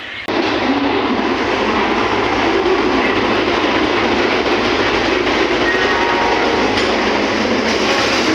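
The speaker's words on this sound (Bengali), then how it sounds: "এই যে দাঁড়িয়ে আছে 12301 হাওড়া রাজধানী এক্সপ্রেস।" The 12301 Howrah Rajdhani Express standing at a station platform, a loud continuous rail rumble and roar with a broad, dense wash of noise throughout, no voices.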